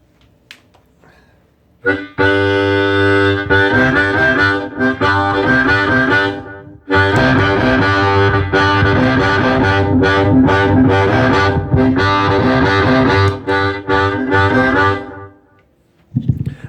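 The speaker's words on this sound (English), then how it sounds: "I use the Heartbreak as insane distortion, which will probably feed back the second I hit it." Heavily distorted electric guitar feedback roars in two long sustained blasts through a Lone Wolf Blues Company Heartbreak pedal, thick and loud, with a brief gap between them and a quiet lead-in.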